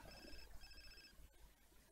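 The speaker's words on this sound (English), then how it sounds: "And Madeleine gets a phone call." A telephone rings in The Sims 4 game, a repeating electronic trill heard in two bursts, fairly faint, with other game sounds underneath.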